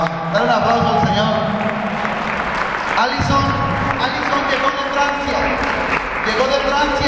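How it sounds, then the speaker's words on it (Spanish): A church congregation claps and cheers loudly at a Spanish-language service, a continuous dense wash of applause with a voice speaking over it. "Dale un aplauso al Señor."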